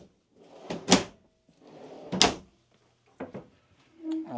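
Kitchen drawers in a 2015 Newmar Dutch Star 3736 RV slide open and shut: two close, rolling glides each ending in a sharp knock, then lighter clicks and a short rattle.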